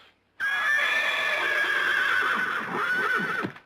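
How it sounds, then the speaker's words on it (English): A horse gives a loud, close whinny lasting about three seconds, rising and then trailing off, with a few hoof clops near the end in a Western drama setting. "Let that horse go!"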